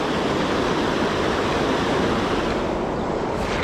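A waterfall on a small trout river rushes in a steady broadband roar, close and continuous, with no voices.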